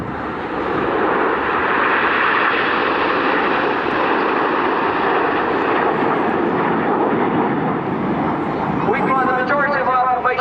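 Red Arrows jets performing a flying display at RIAT 2013, a loud continuous roar of jet engines that stays steady throughout, with a commentator talking over it on the PA.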